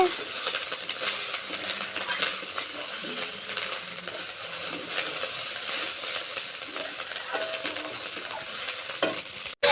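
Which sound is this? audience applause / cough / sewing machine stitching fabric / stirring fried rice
stirring fried rice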